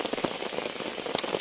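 Steady rain falls on a riverbank fishing spot, a dense close patter with a few sharper drops standing out, and no voices.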